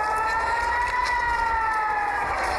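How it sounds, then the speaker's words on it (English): A sustained air raid siren wails steadily in the distance, a continuous tone holding without pause. "the sirens are near non-stop in towns close by"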